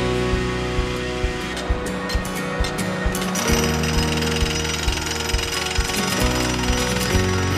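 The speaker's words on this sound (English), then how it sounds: "are manually drilling and pinning the logs into place to secure them to the stream bottom" Manual power drilling as logs are pinned to a trout stream bottom during a Bobs Creek habitat project; a steady loud hammering drill rattle runs throughout with rapid percussive pulses, no talk.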